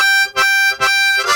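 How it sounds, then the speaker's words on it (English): A harmonica played with tongue slapping gives three bright, reedy chords, each opened by a percussive slap attack, spaced evenly and heard close and loud with no voice. "step number 41, tongue slapping"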